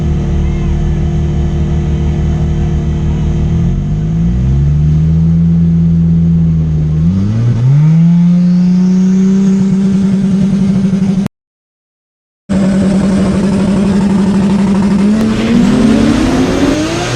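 A six-cylinder race car at a small tire drag race cash match, engine droning loud and steady then climbing in pitch as it revs, cutting out briefly before roaring on at high rpm.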